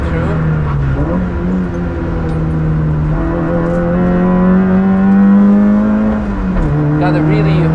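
A fast RS car comes through on the Nürburgring alongside a screaming Nissan Micra K11, engine drone rising and falling through shifts, loud and close, with a voice talking over it.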